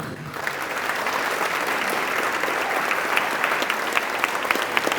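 A luncheon audience at a Hispanic Chamber business event applauds steadily for a lieutenant general coming to the podium, a dense, even wash of many hands clapping that starts abruptly and holds at full strength without voices.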